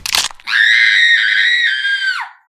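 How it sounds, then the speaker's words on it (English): A piercing scream holds at a loud, steady pitch for about two seconds and then drops off. A short sharp crack sounds just before it, and no one talks over it. "only to be suddenly replaced by an unending piercing scream"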